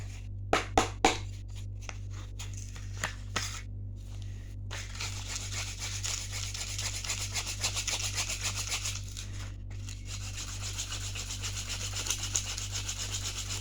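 Rough rasping and scraping of wood being rubbed to roughen it for a homemade bow, opening with a few sharp knocks, then a steady grating stroke rhythm close by.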